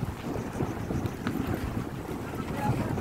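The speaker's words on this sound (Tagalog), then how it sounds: "ang lakas ng alon." Strong waves rolling and washing against a boat or shore on a hot day, a dense rumbling surge mixed with heavy wind buffeting the microphone, with no talk.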